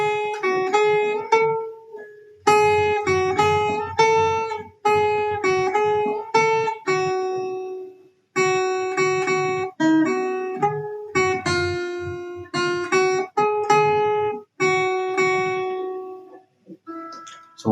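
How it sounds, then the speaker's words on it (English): A simple lead played on an acoustic guitar, single notes picked one after another in short phrases with brief pauses between them, close and clear. "Today's topic is about a guitar lead, which is a very beginner-friendly lead"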